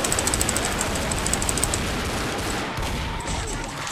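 Rapid automatic gunfire from the video game Left 4 Dead, a sustained stream of quick shots that holds steady for several seconds, loud and close.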